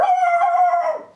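A voice imitates the cartoon dog Dino's bark, making one sustained, wavering howl-like yelp that holds steady and then trails off, close and fairly loud, with no other sound around it.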